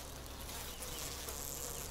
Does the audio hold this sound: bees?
yes